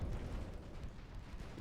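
A torpedo strikes a warship in Ultimate Admiral: Dreadnoughts, a naval battle between Austria and Italy, with a deep, rumbling boom that stays loud and sustained through the short stretch, with no talk.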